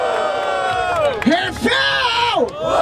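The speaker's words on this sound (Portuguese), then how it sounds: "Barulho para as rimas do Mota!" A loud crowd cheers, whoops and yells at a Brazilian rap battle in Barueri, with dense, continuous noise and rising shouts close by.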